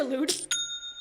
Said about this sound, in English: That is the sound of another sale on Shopify.